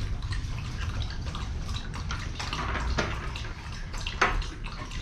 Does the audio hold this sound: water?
yes